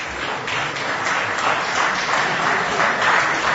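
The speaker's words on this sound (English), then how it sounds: "If you like, you can clap." An audience in Vrindavan, India, applauds after a talk, giving a loud, continuous, dense round of clapping that holds steady throughout.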